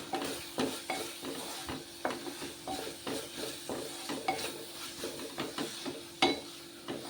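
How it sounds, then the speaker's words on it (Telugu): Tomato, onion, coriander powder, cumin powder and garam masala frying in oil, with a soft continuous sizzle and repeated clacks of a spoon stirring against the pan, close and steady, with no talking. "టమాటా, ఉల్లిపాయలు, మసాలా మంచిగా నూనెలో వేగుతుందండి చక్కగా"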